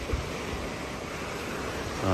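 Strong wind and crashing sea waves at night on the shore at Teluk Kemang, Port Dickson, a steady dense roar of surf and gusting wind across the microphone.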